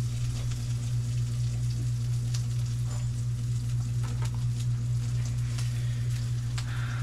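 An egg frying in a small amount of oil gives a steady, close sizzle with crackling pops, under a constant low hum from the stove or a nearby appliance, and no one speaks.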